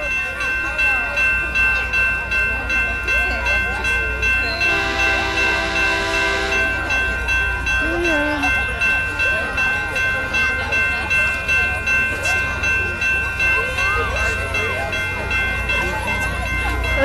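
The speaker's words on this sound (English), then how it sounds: "Here comes the Christmas train." A train rumbles past with a steady mechanical drone, and a loud horn blast sounds briefly partway through, with voices talking over it.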